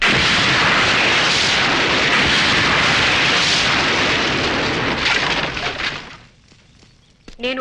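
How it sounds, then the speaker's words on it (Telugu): Firecracker blasts in a Diwali scene from the Telugu film Hands Up thunder as a dense, loud, sustained burst of explosions and crackling that suddenly drops away near the end, leaving a brief gap before more sharp bangs. "చిచ్చుపుట్టు కాల్చడానికి ఇంత సీను."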